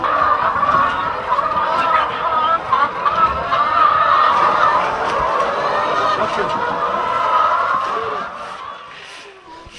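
A large flock of chickens on a demonstration and teaching farm in Uganda keeps up a loud, dense, continuous clucking close by, fading slightly near the end, with possible voices mixed faintly underneath.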